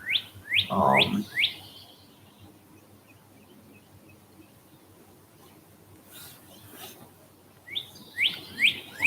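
Clear, high bird chirps in short bursts at the start and again at the end, with quiet ambient hiss in between, at a cloudy summer sunrise.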